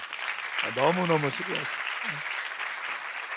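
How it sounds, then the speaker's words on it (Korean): A church congregation gives a steady round of applause for Kingdom Kids camp teachers and Genesis teachers, the clapping continuing evenly throughout while someone briefly speaks over it. "우리 한번 킹덤 키즈 캠프 선생님들, 제네시스 선생님들 너무 박수 한번 합시다"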